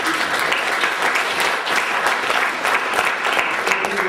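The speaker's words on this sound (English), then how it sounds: "So let's give them one more round of applause," A crowd applauds steadily for about four seconds, a dense, even wash of many hands clapping that stays fairly loud throughout, with no break or clear fade.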